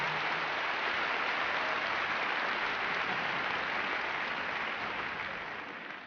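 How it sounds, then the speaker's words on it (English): A big audience at the Crufts 2012 hearing dogs display gives a long round of applause. The clapping is thick and continuous, stays loud throughout and tapers off gently near the end. "Please give them a big round of applause."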